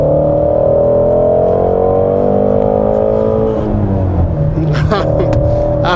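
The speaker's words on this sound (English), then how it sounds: "so there's some driving in the GT350" A Ford Mustang GT350 engine drones loudly and steadily from inside the car while driving, its pitch sliding up and down as it accelerates. Brief voice sounds come near the end.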